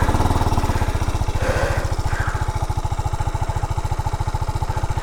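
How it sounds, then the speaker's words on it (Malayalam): A TVS Apache RR 310 motorcycle runs at a steady idle, its exhaust note a loud, even, rapid thumping pulse that holds constant throughout with no talk. "പക്ഷേ എക്സോസ്റ്റ് നോട്ടിൽ അത് കംപ്ലീറ്റ്ലി മാറുന്നുണ്ട് കേട്ടോ."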